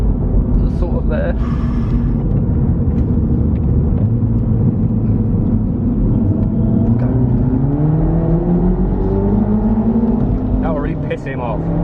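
A remapped Mini Cooper S accelerates hard from inside the cabin, its engine note climbing in a steady rising drone with loud rumble throughout, while people talk over it.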